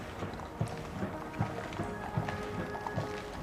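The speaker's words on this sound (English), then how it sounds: "I think that's probably Terry Pendry with one of the Queen's horses on the right of the picture from the Mews" Hooves of one of the Queen's horses from the Royal Mews clip-clop at a steady walking rhythm, moderately close, over a low background murmur.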